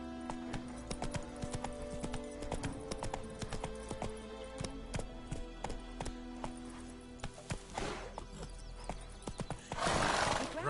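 Roach the horse runs in The Witcher 3 with quick clip-clopping hooves and a whinny, over soft game ambience, and a louder burst of noise comes near the end.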